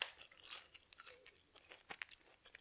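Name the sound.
eating a crunchy sugary McDonald's breakfast pastry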